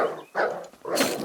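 In the game DYSMANTLE, dogs give several loud, close barks and growls in quick bursts with brief gaps between them.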